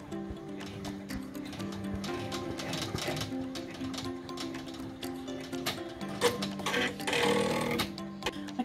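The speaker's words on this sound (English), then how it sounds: "I'm gonna run a placement stitch here at the top for my ribbon to go down" An embroidery machine running a placement stitch for a pumpkin hot pad, a steady mechanical whir with a pitch that shifts in steps and light ticking, nearby and moderately loud.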